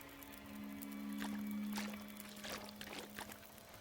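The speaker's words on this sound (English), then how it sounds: "We'll leave water cooking whilst we're out." Water being put on to boil in The Long Dark, a soft pouring, trickling liquid sound over a steady low hum, faint and continuous for a few seconds.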